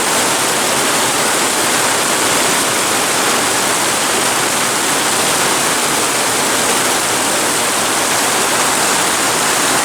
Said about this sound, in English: This is a pretty heavy dang old rain here.